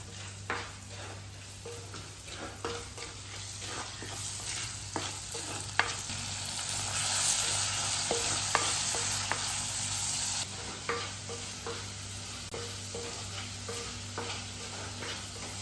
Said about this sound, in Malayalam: ഇതിലേക്ക് ആദ്യം എണ്ണ ഒഴിച്ചു, പിന്നെ കടുക്, ഉലുവ, ചെറിയ ഉള്ളി, പച്ചമുളക്, കറിവേപ്പില ഇട്ട് ചെറുതായിട്ടൊന്ന് വഴറ്റിയെടുക്കുക.